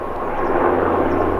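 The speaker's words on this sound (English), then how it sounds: "I hear a helicopter coming in there." A rescue helicopter near Shannon flies in, a steady broad engine and rotor roar at moderate distance, filling the whole moment without voices.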